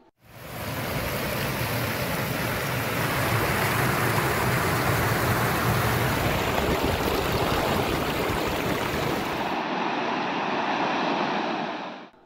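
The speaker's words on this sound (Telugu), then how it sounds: "పెద్దవాగు, కోనంపేట వాగులు ఉధృతంగా ప్రవహిస్తున్నాయి" Flooded Peddavagu and Konampet streams surging forcefully after heavy rain, a loud, dense, continuous roar of rushing water with no talk, ending abruptly.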